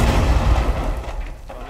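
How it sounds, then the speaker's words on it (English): An impact grenade detonates in Rainbow Six Siege, a loud, heavy boom whose rumbling tail fades out over a second or two. "whoever threw that impact grenade"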